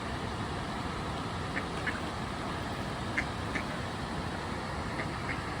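Ducks at Krka National Park in Croatia giving a few faint, scattered quacks over a constant background rush of water or traffic noise, distant and sparse.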